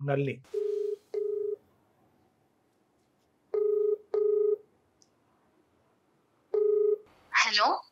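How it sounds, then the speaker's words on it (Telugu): Touch-tone telephone keypad dialing a number: several short, evenly pitched beeps in small clusters separated by pauses, loud and clear with no talk over them, followed by a brief ringing tone at the end. "ఒకసారి కాల్ చేసి మాట్లాడదామండి."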